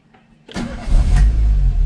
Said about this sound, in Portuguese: Dou a partida no carro.